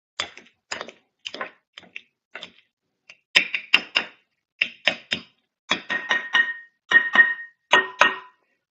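Cooked sweet potato is squished down on a cutting board in a run of soft, close taps and thuds. The knocks come in irregular clusters and grow louder and denser toward the end.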